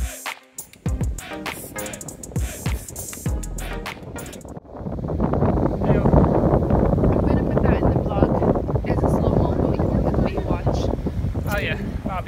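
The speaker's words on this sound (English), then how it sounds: "windy. It's so windy." Strong wind on a Bribie Island beach in Queensland buffets the microphone in loud, continuous gusts, with a brief quieter stretch at the start and faint surf in the background.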